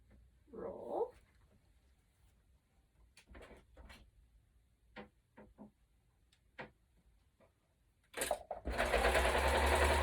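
A sewing machine stitches along the side of a fabric face mask, with scattered light ticks and clicks before a loud, steady whirring run starts near the end, close up with no talking.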